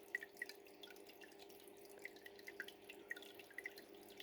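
Gentle water trickles and drips steadily from a fish-tank filter's waterfall outlet, with small, irregular splashes over a faint constant hum, quiet and close.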